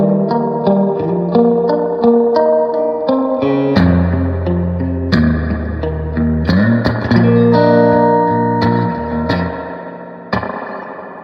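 Electric guitar played through a Fender Princeton Reverb amp with the reverb at 10, chords and single notes ringing out loud and alone, each attack followed by a long, washy reverb tail.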